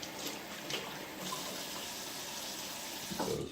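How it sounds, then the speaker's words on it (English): A kitchen tap runs while hands are washed after marinating chicken, giving a steady close splash of water with small shifts in tone as the hands move under the stream. "Wash my hands off."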